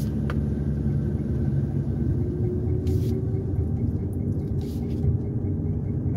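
A car drives through a Poolesville, Maryland neighborhood, its steady engine and road rumble continuous and close throughout, with a faint brief whine and light ticks above the drone.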